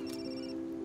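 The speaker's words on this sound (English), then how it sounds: "Is that your phone?" A phone rings in a domestic scene from a children's drama, a short electronic tone with steady tonal lines that lasts under a second, fairly quiet, with no talk over it.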